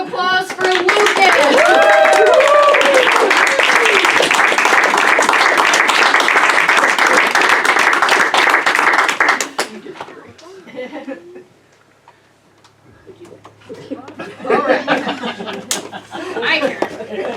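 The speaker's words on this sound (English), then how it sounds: "Another big round of applause for Lucas." Audience claps and cheers for a young performer named Lucas at a magic show, loud for about nine seconds with a bit of laughter, then dies away as a presenter talks.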